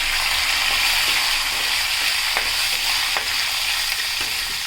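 Steady hissing sizzle of curry leaves frying in hot oil for pickle, close and continuous, with occasional soft clinks of stirring.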